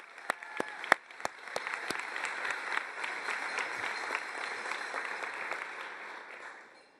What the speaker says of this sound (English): Let's give a round of applause for those folks watching.